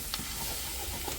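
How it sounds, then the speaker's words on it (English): A butter and flour roux is stirred in a pot, giving a brief, soft sizzle with faint scraping and bubbling, close and quiet. "stir it around, incorporate it."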